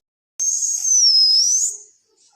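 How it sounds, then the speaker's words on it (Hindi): A single shrill whistle blast rings out clear and high for about a second, its pitch wavering slightly before cutting off. "तभी ताऊ ने सीटी बजाई"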